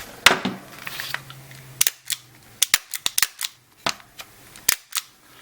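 A Gamo CO2 pellet pistol with a blowback slide fires in single action, giving a string of sharp, close cracks with several quick follow-ups and uneven gaps between shots.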